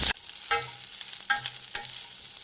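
Sliced onions hitting hot oil in a pan and being stirred, with soft sizzling and a few distinct scraping stir strokes at a steady pace, close and fairly quiet, no talking.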